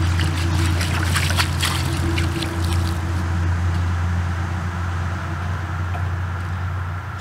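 Water sprays and rinses over a weathered World War 1 veteran's headstone, a steady loud hiss and splash with a low mechanical hum underneath, continuous with no talk.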